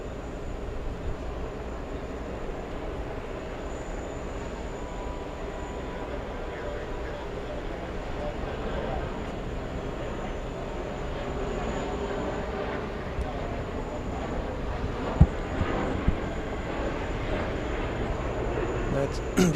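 A small CRJ regional jet takes off at JFK airport, a steady distant engine roar holding evenly throughout, with people talking over it.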